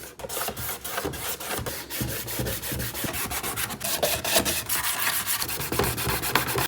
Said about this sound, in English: 50 grit, 100 grit, whatever grit you have, and basically just start giving it a nice scuff.